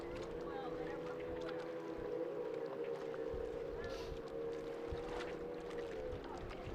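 A Formula Future racing boat at a lake race passing by, its engine a faint, steady droning hum heard from a distance under light background noise.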